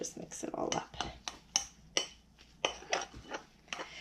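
Utensil scraping and clinking against a bowl while icing color is stirred for a cake, a run of irregular close taps and scrapes, fairly quiet.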